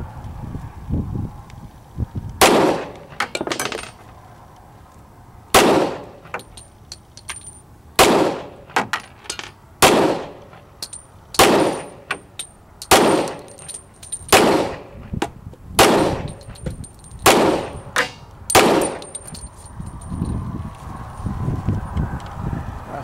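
Smith & Wesson M&P 357 Sig pistol with a 3-pound Apex trigger fires Ultramax rounds, about a dozen sharp, loud shots spaced roughly a second or two apart, each ringing briefly, with quiet gaps between.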